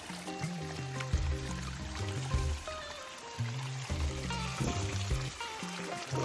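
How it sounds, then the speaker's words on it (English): Hot spring water gushes from an unplugged pipe in a steady, splashing pour, close and continuous, with gurgling bursts and no voices. "you unplug the pipe and the water that's coming out of this, hot, like hot"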